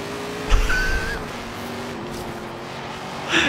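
Drewniak Biturbo race car in Forza Horizon 3 accelerating hard, a rising engine whine with a quick tire squeal early on, the engine note fairly steady and moderately loud with no talk.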